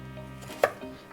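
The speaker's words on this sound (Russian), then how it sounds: "Пора нарезать овощи." One sharp knife chop hits a cutting board while dicing vegetables, followed by a softer knock, quiet and close.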